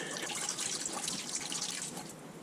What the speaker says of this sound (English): Now it's got a tube on the bottom of it, drains out through the bottom of the machine. I've got a bucket below to catch it all.